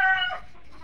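Tiger breed hens cluck once on a farm, a short close burst of bright clucking that fades quickly.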